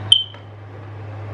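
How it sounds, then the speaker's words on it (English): A smoke or fire alarm with a low battery gives a single short, high-pitched chirp, followed by a faint echo over a steady low electrical hum in a quiet room. "the fire alarm. I think the batteries need to be changed, and it's just beeping like crazy"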